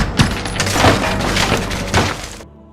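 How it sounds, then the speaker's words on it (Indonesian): Window glass is smashed by robbers attacking a farmer's house: a loud, continuous crash of breaking and shattering panes for over two seconds, with sharper impacts inside it, then an abrupt stop. "sisanya membalas dengan brutal menghancurkan kaca jendela"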